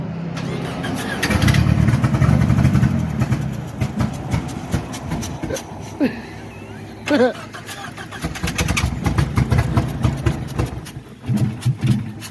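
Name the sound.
Ford Probe car engine starting and running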